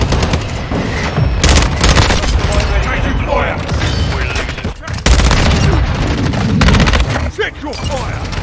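Loud, close gunfire from the shooter game Modern Warfare II, with rapid automatic bursts, booming shots and mechanical weapon clatter. Bursts come in dense stretches with short gaps, and voices speak amid the din.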